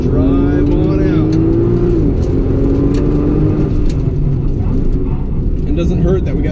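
Nissan GT-R NISMO driven around a figure-eight course, engine droning and rising under throttle with a shift and tire noise, loud inside the car while a driver talks throughout.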